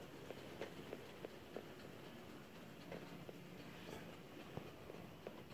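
OO gauge model diesel locomotive running with its motor and gear wheels, giving a faint, quiet whirr with soft rhythmic chuff-like ticks, close and low in level with no talking.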